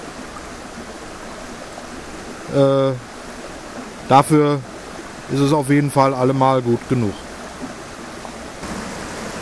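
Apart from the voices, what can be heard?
mountain brook flowing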